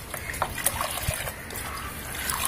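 Liquid organic fertilizer mixed with an equal amount of plain water is stirred by hand, giving soft trickling and sloshing with small splashes, fairly faint and close.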